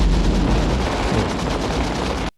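Dense, loud gunfire from the 1987 war film Full Metal Jacket, a continuous roar of rapid automatic shots and blasts that cuts off abruptly at the end.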